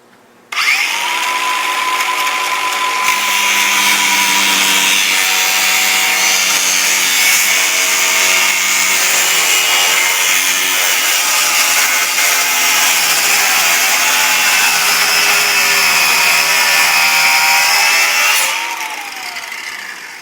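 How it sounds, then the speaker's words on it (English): A power tool cuts steadily through the edge of a Yamaha golf cart part during a 6-inch spindle lift kit install, a loud continuous high whine lasting nearly twenty seconds before spinning down, with no talking. "we're just going to simply come down, and we're going to cut off the edge to allow us to put the taller tire on"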